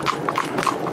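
A cob driving horse clip-clops in a quick, steady rhythm of hoofbeats. The hooves are close and clear, and no one talks.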